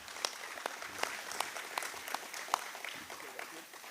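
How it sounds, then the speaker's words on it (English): Applause from a gala and awards ceremony audience, fairly faint and distant, with scattered sharper claps standing out over a soft crowd wash for about four seconds. "I think they need an additional round of applause for that"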